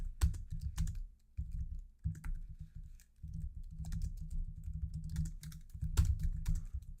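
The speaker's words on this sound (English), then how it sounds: "Sorry I'm so bad at typing" Steady keyboard typing, close and clear, in bursts of rapid keystrokes with a few brief pauses.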